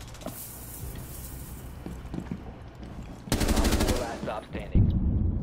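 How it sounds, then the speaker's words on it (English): Rapid automatic gunfire in the Rainbow Six Siege video game, bursts of shots growing loud and dense in the second half over a steady game backdrop. "You guys are shooting me too hard."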